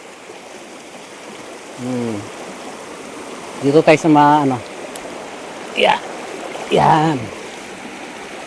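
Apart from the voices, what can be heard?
river stream flowing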